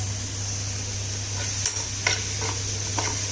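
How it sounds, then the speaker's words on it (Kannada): Tomatoes fry in a pan for a home-cooked meal, giving a steady, close sizzle with a few soft stirring scrapes near the end and no voices. "ಟೊಮೆಟೊ ಹಾಕಿದ್ದೀನಿ, ಚೆನ್ನಾಗಿ ಫ್ರೈ ಮಾಡ್ತಾ ಇದ್ದೀನಿ."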